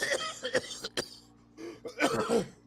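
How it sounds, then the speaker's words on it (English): Several harsh, wheezy coughs and throat clearing in short bursts, close up, with a pause between fits, from a person after eating extremely spicy food. "developing that smoker cough"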